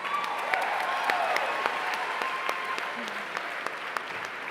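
An audience at a media awards ceremony applauds the winners, steady moderate clapping with distinct sharp claps scattered throughout, heard at some distance in a large room.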